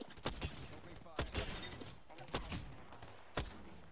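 Gunfire in the video game Apex Legends, several sharp sudden shots spaced irregularly over a few seconds, fairly close and loud above a noisy game backdrop.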